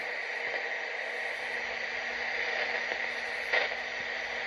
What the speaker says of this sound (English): You guys can hear the static crash sound. That's the radio tower.